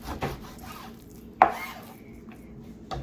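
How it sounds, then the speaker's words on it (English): Knife slicing beef against the grain, a few quiet chopping contacts on a cutting board, with one sharper knock midway and another near the end. "I'm just gonna cut it like this first"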